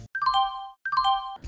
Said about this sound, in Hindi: सब्सक्राइब करने के बाद घंटा बजाएं